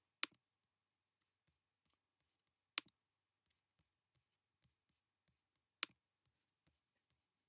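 Three sharp, isolated mouse clicks spaced a few seconds apart while tabs in a desktop application are selected, quiet and close with near silence in between.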